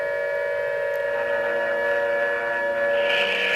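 A steam train engine pulls out of a station under an air raid alarm, a loud sustained whistle-like tone over a low rumbling rail drone, shifting slightly near the end, with no voices.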